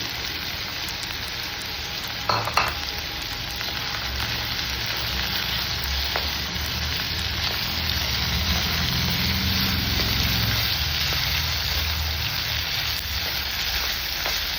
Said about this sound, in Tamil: இஞ்சி பூண்டு வதங்கிறது